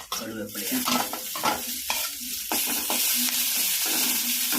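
Loud, steady sizzling of spices and asafoetida frying in hot oil for tempering buttermilk, with occasional scraping of a spoon against the pan.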